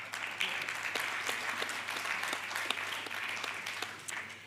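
A conference audience claps steadily throughout, a dense patter of applause at moderate distance that continues without pause.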